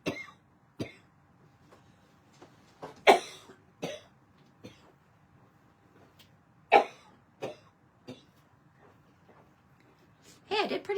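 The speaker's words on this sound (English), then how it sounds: "Oh, I'm just going to cough for a second." A woman coughs in short bursts several times while working at a craft table, the coughs loud and close, separated by quiet pauses and light handling sounds.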